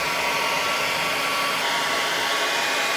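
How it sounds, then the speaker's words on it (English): A hair dryer on its highest airflow and heat setting blows continuously, a loud steady whooshing roar close by with no talking, used to warm metal foil decals on vintage JBL speakers. "I'm just putting on a regular old hairdryer, highest volume of air and the highest heat."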